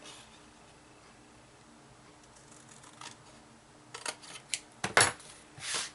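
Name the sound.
scissors cutting paper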